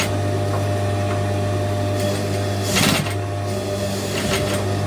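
A sewing machine fitted with a binder foot hums steadily as it stitches over bulky seams, its motor drone continuous and close, with a brief louder strain around one thick seam and no talking.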